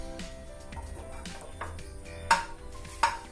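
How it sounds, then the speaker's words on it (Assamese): Butter melting in a kadai gives a soft, low sizzle, with a few scraping stirs and two sharper metallic knocks near the end, all close by. "বাটাৰটো মেল্ট হৈ আছে"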